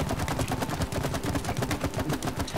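Rapid, steady shooting in the co-op video game It Takes Two, a loud continuous stream of closely spaced shots with no break across the whole stretch.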